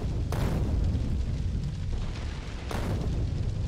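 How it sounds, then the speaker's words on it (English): Explosions in the Factorio video game on a Deathworld Extreme map: a dense, continuous low rumble of booms and bursts, with two sharper blasts standing out, and no talking. "Explosions everywhere."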